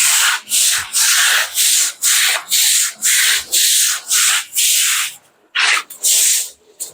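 A push brush scrubs a terrace floor in loud, close, rhythmic strokes, about a dozen even back-and-forth swishes, with a short break near the end.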